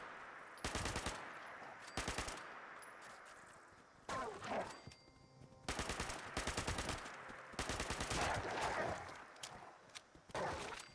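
Fallout 76 gunfire crackles in rapid automatic bursts, several loud volleys separated by short pauses, with scuffling movement between them and no talk.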